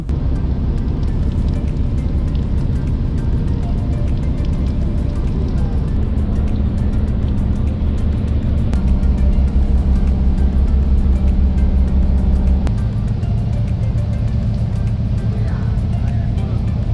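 A houseboat engine drones steadily on Tanguar Haor wetland while rain falls outside, a continuous low motor hum whose pitch shifts in steps as it runs, with wash of noise over it.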